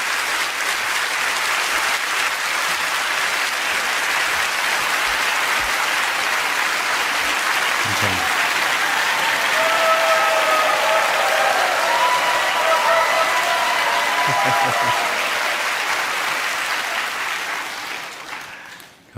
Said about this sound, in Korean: 오늘은 이제 3배의 박수로 막 큰 감사를 표하면서